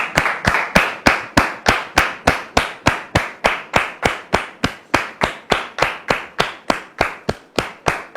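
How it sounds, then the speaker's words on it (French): In a studio, a single sharp, regular clap repeats about three times a second for the whole stretch, each one crisp and close with a brief decay, welcoming a guest. "sous vos applaudissements, s'il vous plaît."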